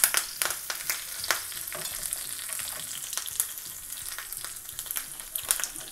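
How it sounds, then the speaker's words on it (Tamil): Hot oil sizzles and spits steadily with sharp crackling pops as chopped curry leaves fry for a coconut coriander chutney, close and fairly quiet, with no one talking. "இப்போ நறுக்கி வச்சுருக்க கருவேப்பிலையை சேர்த்துடலாம்."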